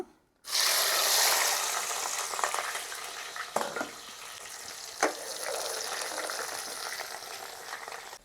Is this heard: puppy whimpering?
no